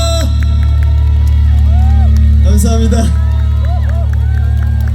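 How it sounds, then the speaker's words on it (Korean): Crowd applause and cheering swell at an outdoor light festival in Ulsan Grand Park after a singer's concert set, loud and sustained over a steady amplified hum while someone speaks into a microphone. "다시 한번 박수 부탁드리겠습니다"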